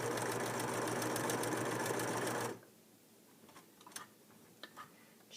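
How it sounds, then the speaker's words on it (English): A Singer 4562T sewing machine stitches a row in a fast, steady mechanical chatter that stops abruptly partway through, leaving quiet room tone with a few soft clicks and handling sounds. "let me turn and scoot over and stitch another row for you"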